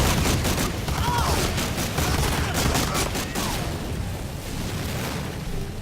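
Dense gunfire in a Medal of Honor Allied Assault battle, continuous cracking shots layered with rumbling booms and loud crowded combat noise throughout, a voice faintly mixed in.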